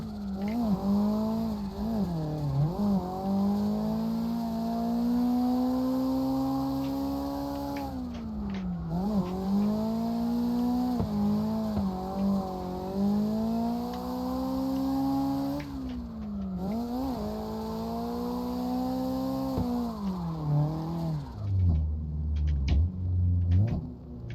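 A Mazda RX7 practice car with an SR20DET engine runs laps on a track. Its engine drones and rises and falls through repeated gear changes across several runs, and tire scrub and rumble come near the end.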